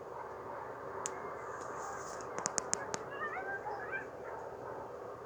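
Coyotes at night yip and howl at a distance over steady background hiss, with a cluster of sharp yips followed by wavering high howls that fade out.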